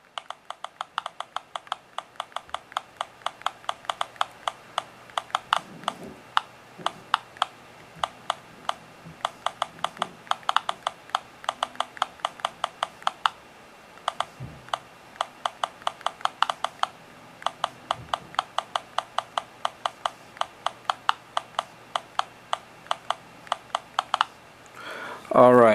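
Rapid, regular taps on an HTC HD7 phone's touchscreen keyboard, each producing a crisp click, continuing for a long stretch with short pauses, close and distinct.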